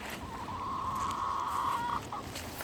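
Backyard chickens kept near rabbits cluck and call, a sustained tonal fowl call in the middle followed by a short second note, over light outdoor background.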